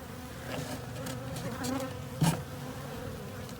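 Bees swarm around beehive frames in spring, giving a steady, close buzzing hum with small shifts in pitch and a brief bump or knock partway through.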